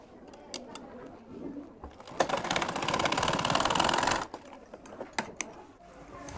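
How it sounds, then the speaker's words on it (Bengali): A sewing machine stitches the end of a school skirt belt in one short, close burst of fast rattling, set between quieter fabric handling and light ticks. "এই মাথাটাকে সুন্দর করে সেলাই করে প্রথমে আটকে দিব"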